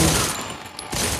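Dense, continuous gunfire from the video game Modern Combat 4 Zero Hour, a loud burst of rapid shots that fills the whole short moment.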